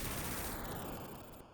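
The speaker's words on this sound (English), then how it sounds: "The entire death egg is collapsing, it's exploding" A huge, continuous roar of explosions as the Death Egg collapses in the Sonic the Hedgehog 2 video game, a dense crackling blast that stays loud throughout and fades only slightly at the end.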